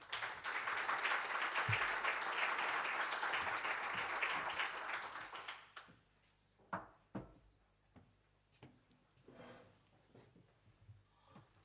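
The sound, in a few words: applause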